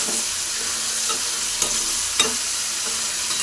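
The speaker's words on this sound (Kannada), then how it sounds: "ಬದನೆಕಾಯಿ ಹಾಕಿ ಎಣ್ಣೆಯಲ್ಲಿ ಸ್ವಲ್ಪ ಫ್ರೈ ಮಾಡ್ಕೋಬೇಕು." Cut brinjal pieces fry in hot oil with a constant bright sizzle while a spatula scrapes and taps the pan a couple of times.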